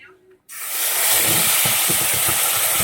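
Dried red chillies drop into hot oil for a home-cooked doi katla, setting off a sudden loud, steady sizzling hiss that continues strongly, with a voice faintly underneath.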